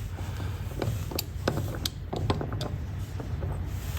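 A 1.5 inch socket on an extension tightens a fastener on RANS S-21 aircraft landing gear, giving a series of sharp metallic clicks and creaks over a steady low hum.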